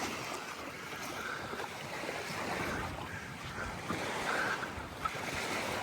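Waves wash steadily onto Stogi beach in Gdansk, Poland, with wind buffeting the microphone in a continuous broad rush.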